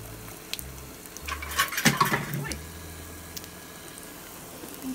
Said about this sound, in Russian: Обжариваем гренки наши и буквально по полминутки.